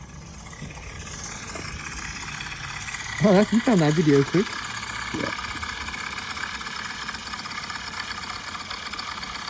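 A custom Volkswagen Beetle convertible's engine idles with a steady low drone throughout, while people talk briefly over it near the middle.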